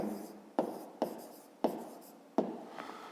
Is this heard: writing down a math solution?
yes